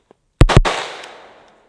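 Two sharp, loud gunshots in quick succession from a pistol caliber carbine, close by, with a long echoing decay trailing off after the second shot.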